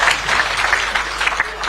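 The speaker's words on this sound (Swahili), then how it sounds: "Makofi kwa former MP." Crowd applause at an outdoor political rally of the Azimio la Umoja coalition in Molo, Nakuru County, Kenya: steady, dense clapping from many hands, loud and continuous for under two seconds.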